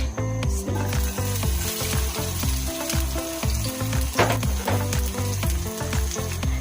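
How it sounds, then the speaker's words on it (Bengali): Onion frying in hot oil for a Bengali tengra fish curry, a steady close sizzle with rhythmic stirring scrapes and clinks of a spatula against the pan, no talking. "তেল দিয়ে দিলাম, তারপরে দিয়ে দিলাম কিছুটা পেঁয়াজ"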